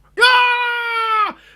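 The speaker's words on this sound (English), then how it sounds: "this person just screams in the boat" A man lets out a single loud, sustained scream of pain after an arrow strikes his chest while aboard a boat in the Viking-era film Valhalla Rising, the sharp cry holding steady for about a second before cutting off.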